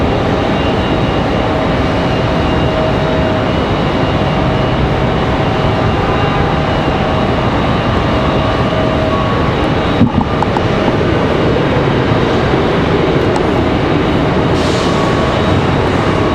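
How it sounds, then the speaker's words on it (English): A Boeing 737-9 jet arriving from Atlanta at Raleigh-Durham International Airport rumbles as a loud, steady broadband roar with a few faint whining tones, holding constant for the whole stretch without any talking. "So we watch our 737-9 coming back from Atlanta."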